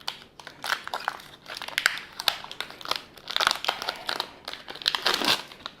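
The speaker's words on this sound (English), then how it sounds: "We're going to remove the decorative or the protective plastic wrapping on it." Protective plastic wrapping crinkles and crackles as it is peeled off a Toro Timemaster mower engine guard, with continuous close, busy rustling bursts throughout.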